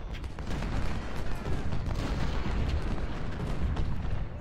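Cannon artillery fire rumbles continuously from a Civil War battle in Ultimate General: Civil War, with dense overlapping booms and crackling volleys forming a steady, loud roar.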